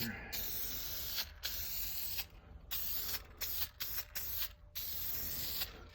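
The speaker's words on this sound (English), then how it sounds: "We are going to put a nice coat of clear satin lacquer." Clear satin lacquer is sprayed onto a wooden cultivator lamp in sustained hissing bursts with short pauses between passes, steady and fairly close, with no talk.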